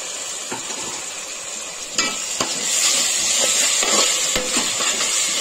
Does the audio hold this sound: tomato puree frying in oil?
yes